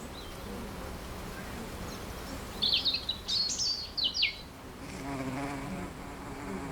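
Bees buzz as a constant drone through the whole stretch in Spain's Cantabrian mountains, with a few bright bird chirps briefly rising above the hum midway.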